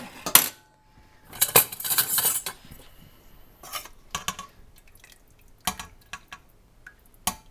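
Shredded pork moved into a pot and stirred with red sauce and broth for tamales, giving close, irregular clinks and scrapes of a utensil against the pot, with brief wet clatters in scattered bursts.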